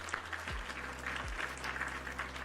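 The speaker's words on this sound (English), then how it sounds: "Round of applause." Applause plays on a livestream, a steady wash of clapping at moderate level with faint low tones sweeping beneath it.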